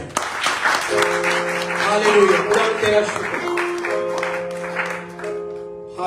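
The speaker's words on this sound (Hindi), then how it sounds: "भी जोर से ताली बजाएं।" A church congregation at a Sunday service claps loudly, a dense crowd clatter lasting several seconds beneath a man's spoken exclamations and sustained keyboard tones, then fading.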